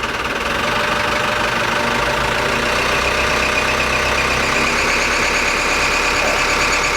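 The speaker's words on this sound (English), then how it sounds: "Squeaky belt." A running marine engine, an AD31P, revving out of gear with a squeaky belt, giving a loud steady mechanical drone with a persistent squeal close by.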